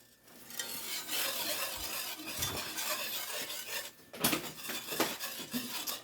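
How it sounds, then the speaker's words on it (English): Alfredo sauce with 2% milk is stirred in a pan on low heat, a spoon scraping and clinking against the metal in steady close strokes over a soft simmer. "And just keep stirring on low."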